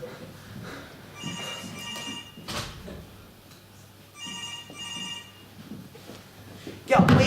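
A telephone bell rings in repeated bursts during a stage drama scene, with an actor talking over the ringing between rings and a loud thump near the end.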